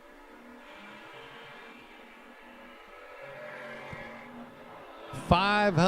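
A Chevrolet Nova and a Dodge Challenger at an old-time drag race as an announcer talks. Engine noise builds slowly, then a sharp, loud rev bursts out near the end.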